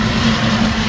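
Loud, steady droning of a skydiving aircraft's propeller engine heard from close by, a continuous roar with a strong low hum and no talking.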